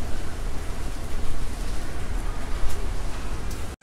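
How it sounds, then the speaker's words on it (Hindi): Steady, dense hiss of heavy cyclone rain pours without pause, broadband and fairly loud, with no voices, ending abruptly. "तो बारिश अभी भी कंटिन्यू है, साइक्लोन में हालत खराब है"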